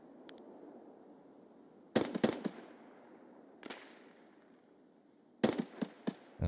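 Gunfire in a video game, heard as scattered sharp cracks: a tight burst of several shots, a lone shot, then another quick cluster of bangs over a low steady ambient rumble, moderately distant.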